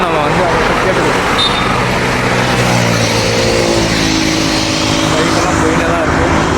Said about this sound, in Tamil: பைக்கெல்லாம் போயிட்டே தான் இருக்குது.